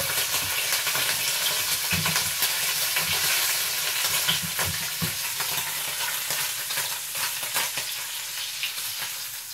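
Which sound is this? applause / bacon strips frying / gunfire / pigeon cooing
bacon strips frying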